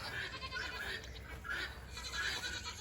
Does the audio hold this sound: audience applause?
no